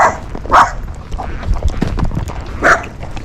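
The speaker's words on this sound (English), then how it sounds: "these dogs are going to chase us when we go by every day" Dogs bark in a few sharp bursts close by while a Tennessee Walking Horse is ridden past and chased, with steady low rumble and movement noise between the barks.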